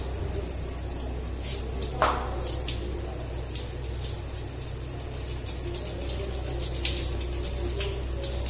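Water runs steadily from an automatic irrigation supply onto seedlings, a continuous flowing and dripping wash with a few brief splashes, close by and at moderate level, with no talking.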